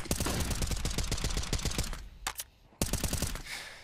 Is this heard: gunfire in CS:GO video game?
yes